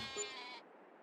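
A single sheep bleats once in a farming video game, a short clear call that fades quickly into quiet.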